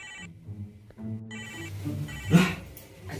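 A mobile phone ringtone plays a repeating melodic tune, fairly close and clear, with brief background noises.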